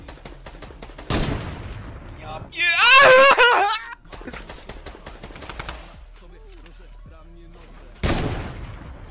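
Gunfire in a video game crackles out in two short, sharp bursts, near and loud, between stretches of someone talking and reacting.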